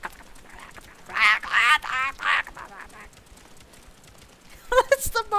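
A bird in Final Fantasy XIV gives a series of honking, quacking calls in short bursts, loud and close, with a pause before a final flurry of calls.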